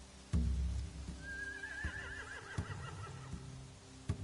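Horses whinny in a video game scene near burning hay, one drawn-out quavering neigh rising over a quiet ambient bed with scattered thumps and clip-clop hoof knocks, no talk.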